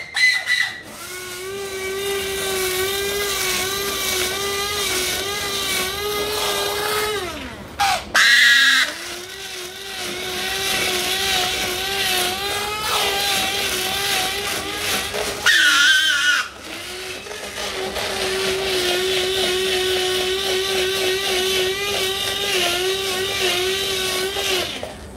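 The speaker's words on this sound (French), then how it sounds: "C'est un mixeur à Benoît" A kitchen blender runs steadily and loudly while duck breast with cherries and red beer is prepared, its motor whine held for long stretches with two short stops before it restarts.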